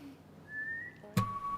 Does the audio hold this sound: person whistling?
yes